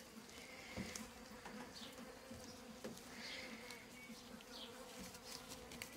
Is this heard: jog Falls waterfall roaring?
no